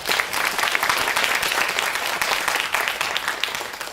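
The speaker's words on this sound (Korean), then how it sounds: "충환이를 위해 힘찬 박수 부탁드립니다" Dense, steady applause fills a hall as an audience claps for a member being introduced at an orchestra ensemble presentation, sustained and evenly loud throughout with no break.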